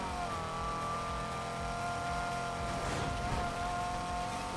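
Car engine in Need for Speed Heat roaring steadily with a whooshing nitrous boost swelling near the three-second mark, loud and continuous with no talk.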